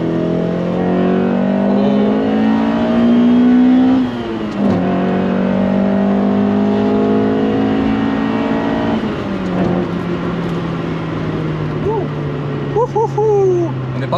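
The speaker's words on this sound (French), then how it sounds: "Le plus important c'est le son du moteur, tout ça, etc. quoi. Le fameux son du VTEC." A Honda CRX with a VTEC engine revs hard as it accelerates, the loud engine note climbing through the gears with brief drops at each shift, heard from inside the car.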